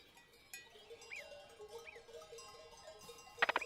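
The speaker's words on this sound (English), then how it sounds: "Herds of goat climb the mountains in summer to escape the heat and to find fresh grass." Goats in a mountain herd bleat from a distance, a few thin wavering calls over a faint outdoor backdrop, ending with a brief cluster of jingling bells.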